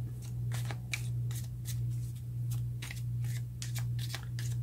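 Tarot cards being shuffled by hand, a steady series of soft papery riffles and flicks repeating in quick rhythm over a constant low hum.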